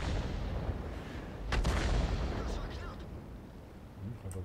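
Gunfire in a video game played on an N64 emulator, a dense rumble of shots with a sharp loud burst midway and scattered lighter reports after, steady under game noise.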